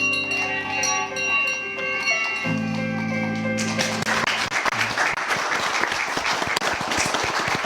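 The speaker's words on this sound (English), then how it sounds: "victoriously ringing his cancer-free bell." A cancer-free bell rings with sustained, bright tones that change pitch partway through, then dense clapping and cheering break out and continue loudly.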